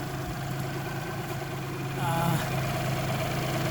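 A Geo Metro engine with a new exhaust manifold idles steadily with a low, even hum, stepping up slightly in intensity partway through and holding there.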